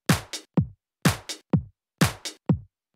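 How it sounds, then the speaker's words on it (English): A high-passed kick drum in an electronic music intro hits in a repeating pattern of short, punchy thumps with the low end removed, playing alone, clear and close. "this intro's just got a kick drum that's actually been high passed"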